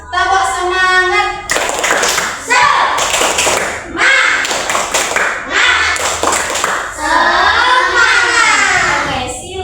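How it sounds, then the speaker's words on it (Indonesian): A classroom group of children performs a rhythmic cheer clap, loud patterned bursts of hand claps alternating with chanted voices, close and lively. "Oke, kita tepuk semangat dulu biar semangat. Tepuk semangat."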